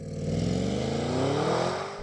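Audi S8 accelerating hard on a German autobahn, a loud sustained engine roar with rising pitch through the run, close and continuous with no talk.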